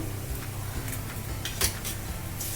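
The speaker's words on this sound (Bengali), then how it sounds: "লবণ দিয়ে একটু ভালো করে এটাকে মিশিয়ে নিই" A spoon works chicken and salt around in a cooking pot for chicken kosha, producing a few light metallic clinks and scrapes over a steady background hum.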